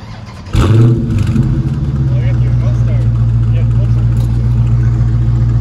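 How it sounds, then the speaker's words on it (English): Dodge Scat Pack V8 cold start: the engine cranks and catches with a loud burst, then settles into a steady, deep, throbbing idle that stays close and loud, with people talking over it. "Cold start with the scat, man."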